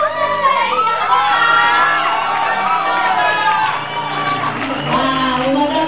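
Wedding guests scream, whoop and cheer as the groom enters, a loud sustained crowd roar of high-pitched shrieks and excited shouts filling the hall.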